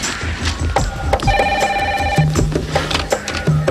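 A telephone ringing indoors, with a bright electronic ring tone sounding in short bursts under a busy mix of voices and music.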